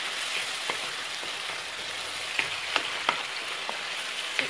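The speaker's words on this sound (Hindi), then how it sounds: "अब हम इसमें टमाटर की प्यूरी को डालकर भूनेंगे।" Tomato puree frying with ginger-garlic paste in a pan for chicken kofta curry, producing a soft, steady sizzle with occasional small pops and spoon taps, fairly faint.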